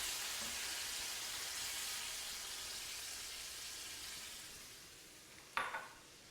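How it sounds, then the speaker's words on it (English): Diced tomatoes cook in a pan with a faint, even sizzle that slowly fades, then a single sharp clink of a utensil near the end. "I'm going to take our diced tomatoes. I'm going to add that to the pan."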